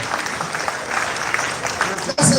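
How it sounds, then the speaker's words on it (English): Inductees at an induction ceremony applaud themselves, a brief burst of crowd clapping with voices mixed in. "Can you clap for yourself?"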